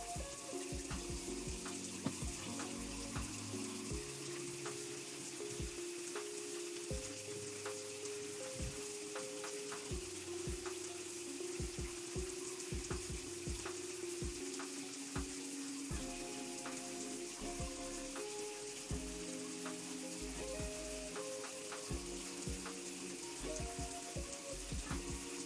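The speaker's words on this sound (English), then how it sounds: "I'm about to go wash my hair" Water runs steadily from a tap while bleached hair is rinsed, a constant faint hiss and splatter with irregular drips and shifts as the flow is disturbed, continuing alone throughout.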